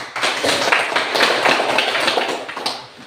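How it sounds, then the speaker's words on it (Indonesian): A classroom audience applauds a presenting group, a dense burst of many hands clapping for about three seconds before fading, loud and close. "Mari kita berikan tepuk tangan untuk"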